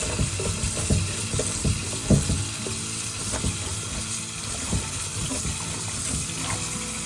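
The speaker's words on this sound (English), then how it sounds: "So here's the green beans. I wash it." Green beans being washed by hand in running water for a Hmong-style plain soup, with a steady splashing and trickling wash punctuated by louder sloshes and clinks, close and continuous throughout.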